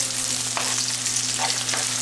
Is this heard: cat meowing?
no